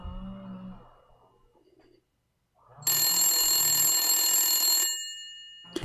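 A phone rings on a call placed to an old number, a loud sustained electronic ring tone lasting about two seconds after a brief quiet stretch, with no talking over it.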